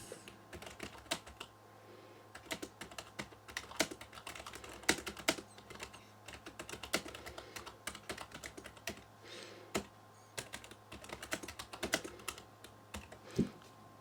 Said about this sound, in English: we had a little typo just at the end there, but not a bad typing experience